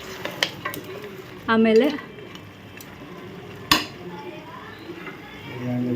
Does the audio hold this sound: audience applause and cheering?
no